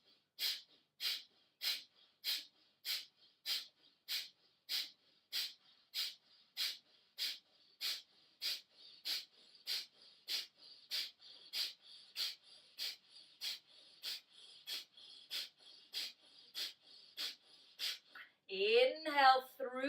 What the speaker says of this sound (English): close the right nostril, inhale left, 30 pumps, left side